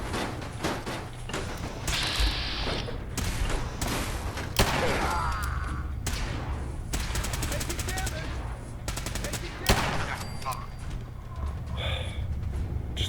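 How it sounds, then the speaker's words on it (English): Gunfire from a .44 revolver in the video game Fallout 4 cracks out in sharp, loud shots at irregular intervals, some spaced seconds apart, mixed with mechanical clicks and rattles. "Haven't got much ammo left for this 44 cal cannon"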